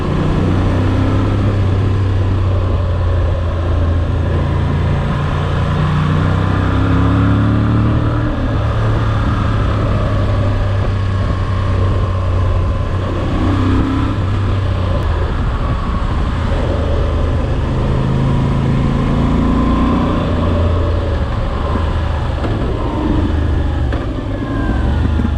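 A 2024 Moto Guzzi V85 TT motorcycle on the move, a steady loud engine drone with wind rush heard from the rider's position, continuous and unbroken without talk.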